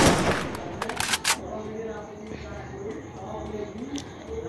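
Rapid bursts of AK rifle fire in the mobile battle royale game Free Fire, with a loud volley at the start and then quieter ongoing game ambience behind it.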